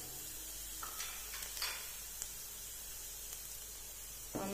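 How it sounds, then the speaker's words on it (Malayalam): Chopped onion and grated coconut sauté in a pan for an egg thoran, giving a faint, steady sizzle with a few soft scrapes and clicks and a sharper knock near the end. "നന്നായിട്ട് വഴറ്റിയെടുക്കുക."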